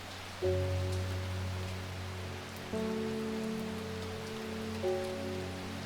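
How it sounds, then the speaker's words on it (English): Steady rain hisses continuously indoors in the PC game Strange Horticulture, with sustained synthesized music chords underneath that change a few times; no voices. "Why is it raining inside?"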